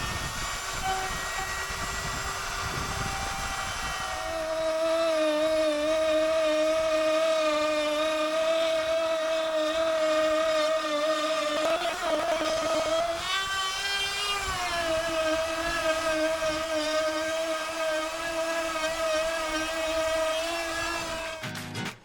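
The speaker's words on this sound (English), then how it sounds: "Time to cut the sight glass in the second tank." A cutting tool slices a sight glass slot into a boat's tank, giving a loud, steady whine with a strong tonal pitch that dips briefly midway and then carries on, with no talking.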